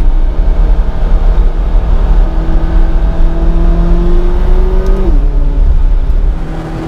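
A McLaren 570GT accelerates hard up a volcano road, its engine a loud, steady roar with a pitch that climbs and then drops sharply at a gear change near the end, close and continuous with no talk.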